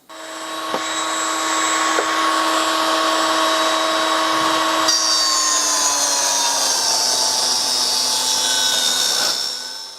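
Power saw with a blade set at 90 degrees ripping wooden strips for window-frame and screen parts, a steady loud whine running almost the whole time with its pitch shifting partway through the cut, alone without talk.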